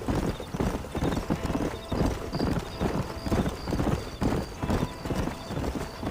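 A horse in Red Dead Redemption 2 gallops with a rapid, continuous run of hoofbeats, loud and close, and a faint whinny sits in the mix.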